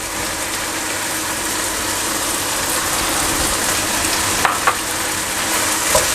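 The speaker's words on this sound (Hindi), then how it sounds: "अभी 1 से 2 मिनट तक मैं इन सब्जियों को पकाऊंगा।" Chicken with baby corn and carrots stir-fries in a hot pan for chop suey, a loud continuous sizzle with a few faint clicks of the utensil, no voices.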